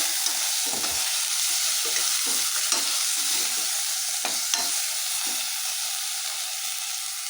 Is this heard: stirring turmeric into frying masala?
yes